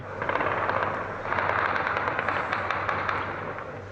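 Bursts of distant gunfire from an armed clash in Silopi, Turkey, crackle in irregular volleys over a constant low rumble, sharp shots scattered across the whole stretch.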